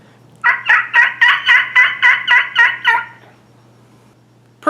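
A human voice imitates a wild turkey: a run of about nine quick, evenly spaced yelping notes, loud and close, followed by a quiet pause and the start of another call.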